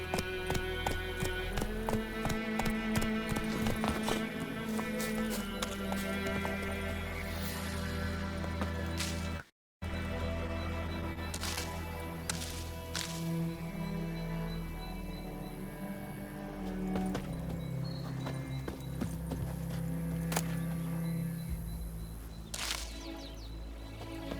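Roach, the horse in The Witcher 3, galloping with rhythmic hoofbeats that run throughout, with a brief dropout partway, occasional birdsong and scattered game sounds behind, no talk.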